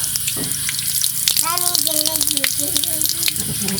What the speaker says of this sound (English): Mummy's washing the squash